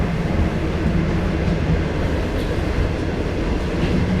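Steady rumble and low rattling inside a moving train carriage in Kunming, a constant loud drone with faint clatter, no voices.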